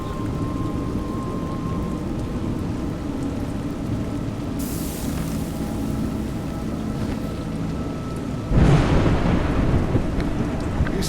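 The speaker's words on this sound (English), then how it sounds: "You seem surprised that rain comes from the heavens." Heavy rain and rolling thunder in the video game Juggler's Tale, a steady roar of rainfall throughout with a loud thunderclap crashing in near the end; no talk.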